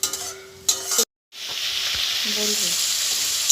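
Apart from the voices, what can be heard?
sautéing masala in a pan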